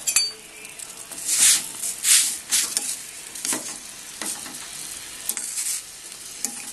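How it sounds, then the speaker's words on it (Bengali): Soybean chunks frying in a home kitchen pan are stirred with a utensil, producing several loud scraping sweeps and clinks over a continuous sizzle, with no talking. "নেড়ে দেবো একটু।"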